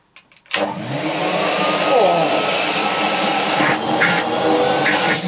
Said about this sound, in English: that to me is what an Electrolux should sound like. Smooth, whisper quiet.